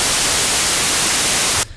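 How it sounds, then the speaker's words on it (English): A loud, flat white noise test signal hisses evenly across the whole range for over a second and a half, then cuts off abruptly to near silence. "we're going to be working with a signal that affects all band, or like the whole frequency spectrum, and that is white noise"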